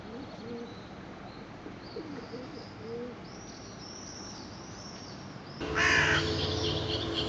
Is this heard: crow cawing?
yes